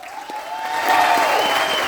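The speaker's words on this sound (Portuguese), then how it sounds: "Pode aplaudir?" Audience applause in a church service, a sustained crowd clapping that swells slightly and holds steady throughout.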